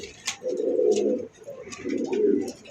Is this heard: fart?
no